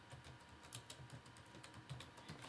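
Quiet, rapid clicking of a computer keyboard as someone types at an irregular pace.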